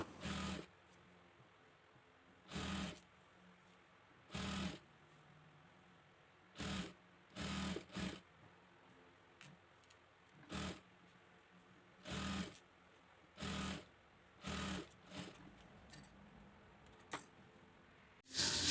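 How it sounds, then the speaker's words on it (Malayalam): A sewing machine stitches the sleeves of a co-ord top in short whirring bursts of a second or so, repeated with pauses between, fairly close and alone. "സ്ലീവിൻ്റെ താഴ്ഭാഗത്ത് നിന്ന് നമുക്കിതുപോലെ സ്റ്റിച്ച് ചെയ്ത് തുടങ്ങാം"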